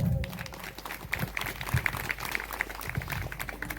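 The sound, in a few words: audience applause after dance performance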